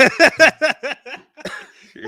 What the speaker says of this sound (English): Okay, I got him to cough for you, man.